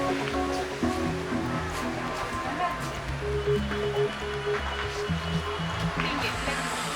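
Water flowing at a holy water tower well at a memorial pilgrimage site near Nagercoil, a steady rushing wash running throughout at moderate distance, with people talking over it.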